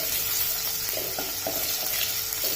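Ginger being quickly stirred in hot oil while cooking a restaurant-style hot and sour vegetable soup, a steady close sizzle with a few soft scraping stir strokes.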